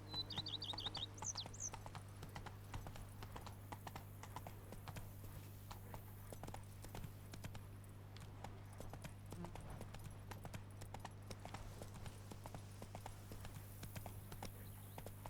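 Roach the horse's hooves clop steadily in The Witcher 3: Blood and Wine, a quiet, even walking rhythm over a constant low hum, with a few bird chirps at the start and a brief spoken line.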